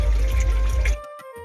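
Water gushes steadily from a tap into a container, then cuts off abruptly, leaving a few faint drips and clinks.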